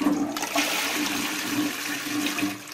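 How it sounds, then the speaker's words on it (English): A hotel toilet flushes with a drop-style bowl that gives no swirl: a steady, loud rush of water runs close by throughout, with no voices. "Open up that lid and give it a flush."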